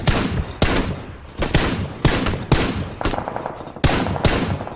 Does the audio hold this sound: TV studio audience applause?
no